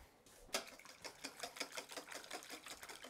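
Ingredients are whisked in a bowl, a quick run of rhythmic scraping taps repeating steadily for a few seconds, faint and close, with no talking.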